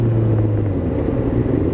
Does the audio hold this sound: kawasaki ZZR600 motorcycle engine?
yes